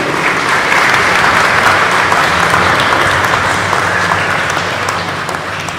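Congregation at a baptism Mass giving loud, sustained applause for two newly baptized children, dense clapping that fills the room and eases off toward the end.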